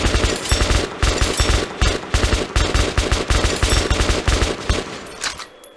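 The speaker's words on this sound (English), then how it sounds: "My god, this gun runs out of ammo very quick." A gun in Metro: Last Light Redux fires rapid automatic bursts, a loud close stream of shots broken into several strings with short gaps, ending as the firing stops.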